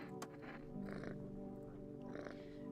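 A cat purrs in a video game while being petted in a house, a soft continuous rumbling purr at close range with no talk over it.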